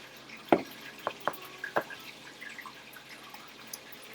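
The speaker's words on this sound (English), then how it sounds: "I'm going to pour it just so we can look at it" Midnight Sun Kodiak Brown Ale poured from a can, a few short liquid splashes and drips close by, separated by pauses, fairly quiet, with no talking.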